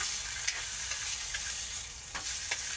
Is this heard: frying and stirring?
yes